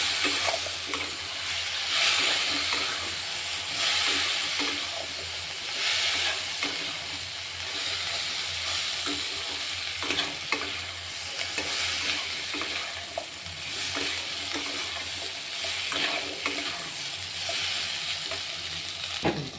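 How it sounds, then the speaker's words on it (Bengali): Masala for a vegetarian coconut curry sautéing in a pan, a loud continuous sizzle with steady scraping and stirring strokes running throughout, close and without talk. "দিয়ে আমি ভালো করে কষিয়ে নেব"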